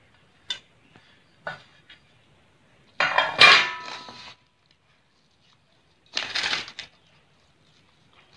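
Jackfruit and grated coconut are mixed into a powder in a bowl, giving scattered clinks and scraping clatter of a utensil against the dish in short bursts, close and fairly loud.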